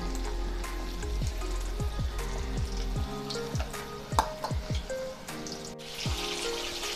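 Chicken 65 pieces frying in oil over a medium gas flame, a continuous close sizzle with occasional pops and soft clinks, steady throughout with no talking.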